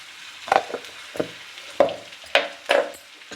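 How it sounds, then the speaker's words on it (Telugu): Ginger-garlic paste frying in oil in a pan for brinjal tomato curry, stirred in a handful of separate strokes. Each stroke brings a short burst of sizzle and a spoon scraping, set against a quiet background. "అల్లం వెల్లుల్లిపాయ ఆయిల్లో వేసి వేయించడం"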